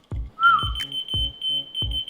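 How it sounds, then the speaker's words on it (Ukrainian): A whistle is followed by a small electronic key finder fob that keeps beeping in a steady high pitch, with several soft low thumps pulsing beneath it. "цей брелок для пошуку ключів реагує на свист і починає"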